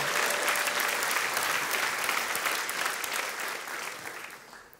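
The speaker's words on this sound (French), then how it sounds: "Est-ce qu'on peut applaudir le Seigneur?" A church congregation at a French-language worship service breaks into loud, dense applause that holds steady, then gradually thins and fades toward the end, with no speech over it.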